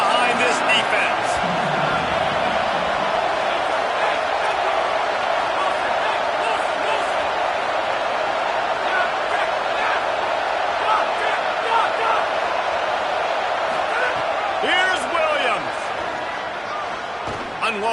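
A stadium crowd roars steadily in a college football video game, a dense continuous wall of cheering that carries under a play-by-play commentator's talk.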